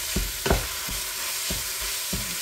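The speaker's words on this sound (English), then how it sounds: "I'll add a little bit of salt, pepper, and give it a good stir." Seasoned meat for tacos frying in a pan as a utensil stirs it, several scraping strokes over a steady loud sizzle, close up with no voices.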